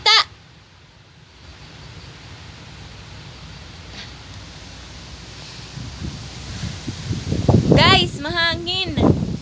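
On a mountaintop, strong wind buffets the microphone as a continuous, rising rush of noise. A sharp knock comes at the start, and near the end people talk over the gusts.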